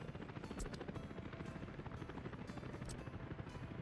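Helicopter in Workers & Resources: Soviet Republic, a steady rapid rotor chop with engine whine, continuous and fairly faint in the mix, with no speech over it.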